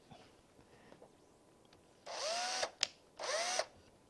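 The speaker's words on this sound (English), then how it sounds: "using a countersink bit with an appropriate size drill, I'm going to drill the first screw hole" A power drill with a countersink bit whirs in two short bursts into wood, drilling a screw hole, with a brief click between them, in an otherwise quiet space.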